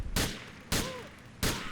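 Three loud, sharp gunshots ring out at roughly even intervals in Grand Theft Auto 4, each a sudden blast with a short decaying tail.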